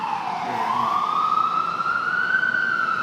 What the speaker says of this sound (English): Let the siren go by.